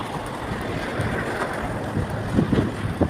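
Wind buffeting a person walking outdoors, a continuous rough roar of gusts hitting the microphone with stronger bursts near the end.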